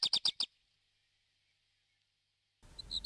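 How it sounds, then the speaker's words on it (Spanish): A pair of black redstarts nest in a small window of a school gymnasium. One gives four rapid, sharp, high calls, then falls silent before a further burst of chirping, close and clear. "Esta pareja de colirrojo tizón ha elegido un ventanuco del gimnasio."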